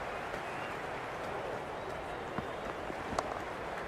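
A cricket crowd in a BBL video game match between Sydney Sixers and Adelaide Strikers roars steadily as a dense, continuous wash of cheering and clapping, with a few sharper spikes standing out.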